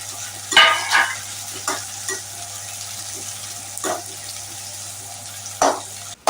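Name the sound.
frying onions with anchovy dry fish powder, stirring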